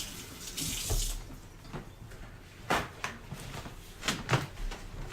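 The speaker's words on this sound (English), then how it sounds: "So now I'm going to wash these real quick. You can hear the water come on." A kitchen tap runs while onions are washed at the sink, water gushing and splashing unevenly with several louder bursts as the flow hits the produce and basin.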